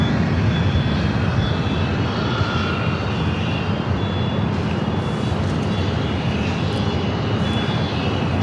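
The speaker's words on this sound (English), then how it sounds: "Virgin A350 now pushing back" A Virgin Atlantic Airbus A350-1000 pushes back at Los Angeles airport, its jet engines giving a steady, loud broadband roar with a faint high whine, continuous throughout with no talk.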